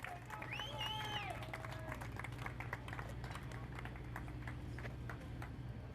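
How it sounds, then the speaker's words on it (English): A crowd at a Formula 4 race at Circuit of the Americas podium ceremony claps and cheers steadily for several seconds, with a voice talking over the applause. "One more round of applause for your new champion, Patrick Woods Toth."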